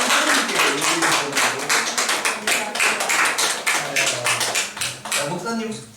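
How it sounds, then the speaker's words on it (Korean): A church congregation at a pastors' appreciation Sunday service claps hands together in quick, rhythmic bursts under a voice speaking throughout. "박수."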